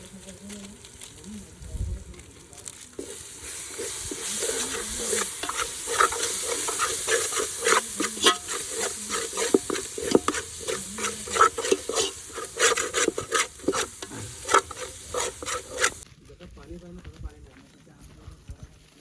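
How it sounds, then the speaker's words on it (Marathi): Spice masala roasts in a pan outdoors in a forest as a spatula scrapes and stirs in a rapid rhythm over a soft sizzle, with a voice talking at times. The scraping stops near the end. "हा मसाला छान तयार झालेला आहे भाजून मस्तपैकी"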